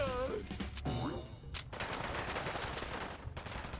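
Gorgon LMG machine gun in Fallout 4 rattles off rapid bursts of fire, loud and continuous through most of the moment, with brief breaks and a few sharp clanks between volleys.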